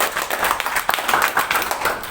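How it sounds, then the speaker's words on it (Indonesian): Congregation applauding inside a church, a dense burst of many hands clapping together at close range with no voices. "Tepuk tangan buat yang mengerjakan."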